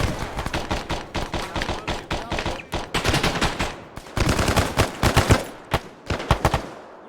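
Dense, fast gunfire during close-quarters battle training, with rapid overlapping shots and short pauses between bursts, loud and near, with voices faintly mixed in.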